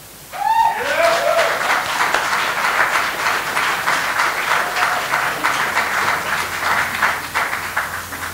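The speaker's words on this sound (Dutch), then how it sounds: "Ik wil graag een warm applaus voor Neuze" A crowd at a spoken-word poetry evening at the Eendrachtsfestival in Rotterdam gives a performer warm, sustained applause, opening with a few whoops and cheering voices, then a steady dense wash of clapping with scattered laughter throughout.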